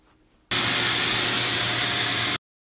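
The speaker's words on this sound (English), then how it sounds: "There was this vacuum recording that I did." A vacuum cleaner recorded at home roars in as a steady, loud, broadband whoosh after a quiet lead-in, holding constant for about two seconds before cutting off abruptly.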